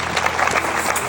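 A church congregation applauds during a service, with a brief burst of dense, close clapping.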